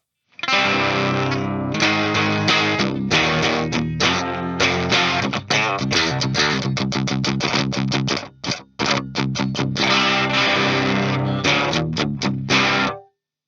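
Electric guitar through a Behringer HM300 pedal and Marshall DSL amp head with a light overdriven crunch, strummed chords and choppy rhythmic stabs ringing out clearly, played alone for several bars.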